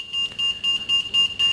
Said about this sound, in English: dan gaat het alarm af.